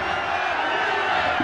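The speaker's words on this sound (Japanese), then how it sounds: "ブーイングですね。" Stadium crowd in Winning Eleven '97 booing after a hard foul in a Yokohama Flügels vs Yokohama Marinos J.League match, a dense sustained roar of jeering voices filling the whole moment.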